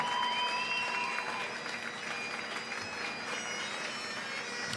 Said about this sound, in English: We got a massive round of applause for the bronze medal.